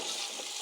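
Water is poured into a pan of frying onions cooking for matar pulao, giving a loud, continuous hissing sizzle that fills the whole brief moment.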